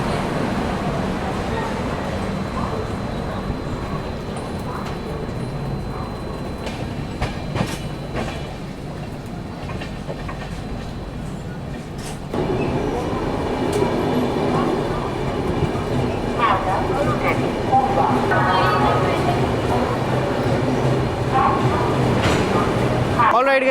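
The Howrah–New Delhi Poorva Express runs steadily on the rails, heard from inside a 3AC coach as a loud continuous rumble with rhythmic clickety-clack and occasional clanks, while someone talks throughout.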